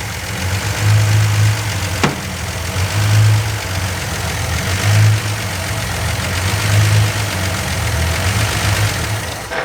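Classic car's Slant Six engine idling with a carburetor fault, its rough low rumble hunting up and down in slow regular surges, with a single sharp click early on.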